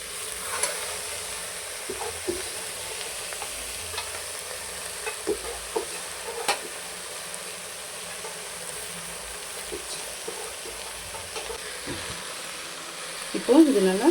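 Chopped greens sautéing in a pan with tamarind and turmeric, a steady soft sizzle broken by repeated scraping stirs of the spoon, moderately close, with a louder rattle near the end.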